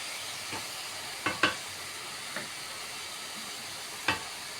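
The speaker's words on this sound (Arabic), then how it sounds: "هفضل اقلب البصله باللحمه كده" Chopped onions fry with meat in a pot, giving a soft, steady sizzle broken by a few sharp clicks and scrapes as the mixture is stirred.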